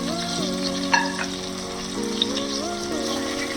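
Sliced tomato sizzling and frying in a pan of onions for a pressure-cooker chicken biryani, a steady close hiss with faint stirring clinks and no talk, while background music plays throughout.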